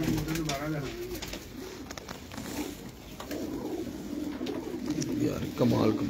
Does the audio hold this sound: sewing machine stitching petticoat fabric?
no